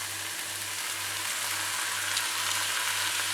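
Onions and tomatoes sautéing in a pan, a dense, even sizzle that holds steady at a fairly loud level throughout, close up with no talking.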